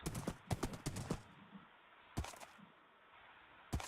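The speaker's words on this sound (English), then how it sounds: "Running through here with my horse is just a terrible idea." A horse's hooves clip-clop in Minecraft, quick bursts of a few sharp steps separated by short pauses, clear and alone.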